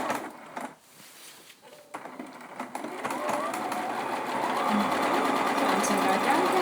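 A sewing machine stitches steadily while machine quilting a patchwork quilt block, its rapid mechanical whir rising and running continuously, with a quieter stop-start stretch early on and a person talking over it.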